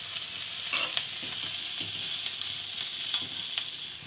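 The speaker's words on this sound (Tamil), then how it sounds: "இது வந்து கொஞ்சம் ஃப்ரை ஆகும்" Rice frying in ghee in a pan over a lowered flame gives a steady, close sizzle throughout, with brief scraping stirs now and then.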